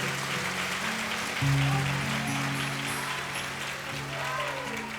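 An audience at a Hindu religious discourse in Delhi claps steadily, the applause running under a sustained low tonal hum, moderately quiet and swelling slightly partway through.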